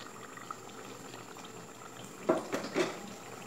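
Pakoras simmer in a masala gravy, a faint, quiet bubbling that gives way to a few louder, brief popping bursts near the end.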